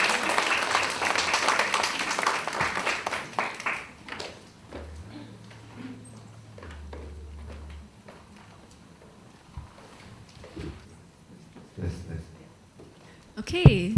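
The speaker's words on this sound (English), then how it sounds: "if we can give them another round of applause" Audience applause at a panel event on fashion and cities, a burst of clapping in the first few seconds that fades into scattered claps and stage movement, with a voice speaking softly later.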